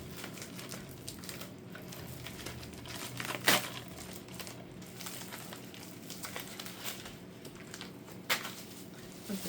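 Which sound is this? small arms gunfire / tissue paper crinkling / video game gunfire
tissue paper crinkling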